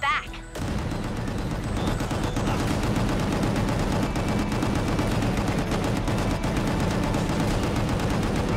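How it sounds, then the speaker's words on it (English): Relentless gunfire in the action shooter Gungrave G.O.R.E., a dense rapid stream of shots with booming impacts layered under a game soundtrack, loud and continuous after a brief opening moment. "Just keep shooting till they're all dead."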